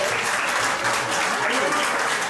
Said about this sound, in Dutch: Geef beide dames applaus.